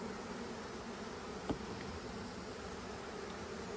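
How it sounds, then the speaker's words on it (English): Honey bees buzz steadily around an opened hive frame during an inspection, a continuous close insect drone with one brief louder knock partway through and no talking. "Pretty docile bees. They seem to be tolerating this torture pretty well."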